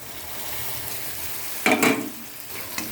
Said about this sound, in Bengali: এখন দিয়ে দেবো এই যে কারি পাতা, কাঁচা লঙ্কা কুচি, আদা কুচি,